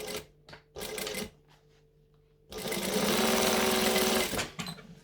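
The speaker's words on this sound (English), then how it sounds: "So I'm just going to sew here and the other end. One, and I'm going to chain stitch." Sewing machine chain stitching fabric while making a Sachima bag, with short bursts of rapid needle hammering, a pause, then a longer loud continuous run of stitching, close and alone.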